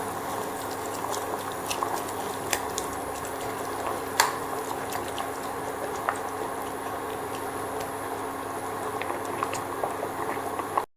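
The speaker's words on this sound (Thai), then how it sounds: "ใส่หมูลงไปลวกต่อเลยนะคะ หมูสับที่ใช้นะคะ405กรัมค่ะลวกให้สุกนะคะ" Minced pork blanches in a pot of boiling water, giving a steady close bubbling hiss with scattered small pops and clicks throughout, ending in a sudden cut.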